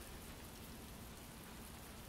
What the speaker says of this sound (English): But now it's like super raining.